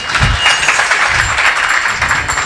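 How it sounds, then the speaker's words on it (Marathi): An audience at a devotional kirtan on Ashadhi Ekadashi claps in dense, steady applause that stays loud and close throughout. "म्हणजे या टाळ्या दोन्ही अर्थी असतात बरं का"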